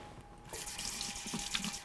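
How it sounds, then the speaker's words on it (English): Cold tap water runs steadily into a sink, rinsing baby wheat for a Lebanese side dish. A broad close hiss starts after a brief quiet moment, with no voices. "So what you wanna do first, we're gonna rinse it under cold water."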